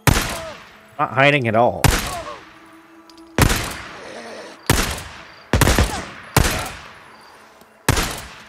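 Gunfire in the Days Gone video game: a string of loud, sharp shots spaced roughly a second apart, each ringing out with a brief tail, with a short burst of speech between the first shots.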